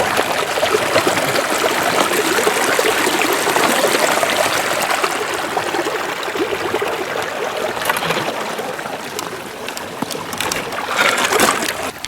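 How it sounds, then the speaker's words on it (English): Stream water rushes steadily into a gold sluice box held back by a small hand-built dam, a continuous close, loud broadband flow with light splashing and trickling throughout. "I'm gonna build up a small dam right here and channel that water into the sluice to get enough water flow"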